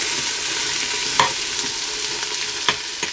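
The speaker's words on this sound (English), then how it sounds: "I'm going to saute my onions until they begin to soften" Onions sautéing in oil in a pan give off a steady, close sizzle, with a couple of sharp spatula scrapes and clicks breaking through.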